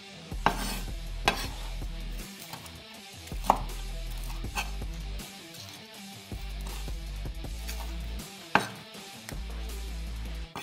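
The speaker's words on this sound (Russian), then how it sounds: "обжаренную курицу нарезаю" A knife chops fried chicken on a cutting board in irregular strokes, sharp thuds standing out over a low kitchen hum and faint sizzling.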